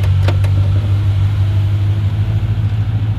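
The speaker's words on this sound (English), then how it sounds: "So give it some revs. So first, see we're in first." An LS13-swapped car running in first gear while raised on a workshop hoist, a steady low engine drone with drivetrain rumble, close and continuous without speech.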